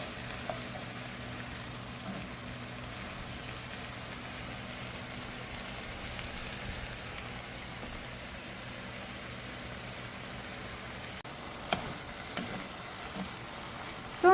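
Food being stirred and fried in a wok with green seasoning, a soft steady sizzle with a low hum beneath, faint and continuous, a few light scrapes near the end.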